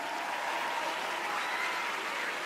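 Concert audience in Tokyo applauding a band, a dense, steady wash of clapping from a large crowd that holds at an even level throughout.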